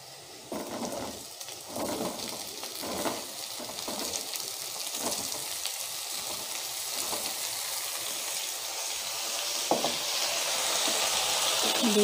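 Sliced bottle gourd and potato hit a pan of fried onions for an Assamese curry, giving a steady broadband sizzle with occasional stirring scrapes, close and continuous with no talking.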